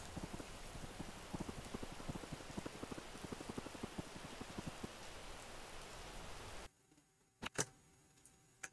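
Steady rain hisses through a stormy night in the video game Quarantineer, with a dense patter of drops for several seconds. It then cuts away to a few sharp clicks over near silence.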